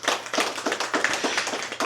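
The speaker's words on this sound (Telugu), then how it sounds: "శ్రీధర్ సార్కి గట్టిగా చప్పట్లు కొడదాం" An audience claps steadily for a guest at a meditation talk, a dense, continuous patter of many hands with no voices over it.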